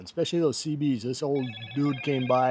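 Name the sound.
phone ringing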